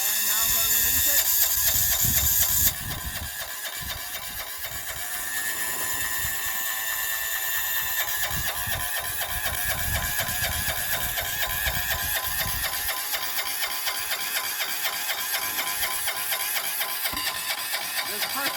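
A 6HP 178F single-cylinder diesel engine being cold-started in winter: a steady mechanical whirring and rattling as it spins, then a continuous rapid knocking once it fires, loud and close throughout.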